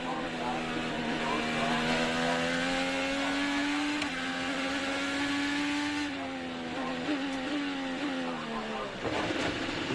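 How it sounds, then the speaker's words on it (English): Onboard at St. Petersburg, a 2023 IndyCar race car engine drones at high revs with a steady whining pitch that dips and then fades as the car slows, while a commentator talks over it. "You hear the engine start to go quiet,"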